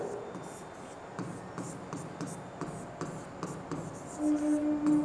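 Marker or chalk strokes writing a year code on a board for a calendar reasoning lesson, a soft run of short rubbing scratches in uneven rhythm, close and fairly quiet.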